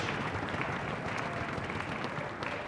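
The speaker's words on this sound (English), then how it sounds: "Let's have another round of applause for the Junior High Brass Collective." An audience applauds a junior high brass ensemble at a school performance. The clapping is dense and steady and runs at an even level for the whole stretch, with faint crowd murmur mixed in.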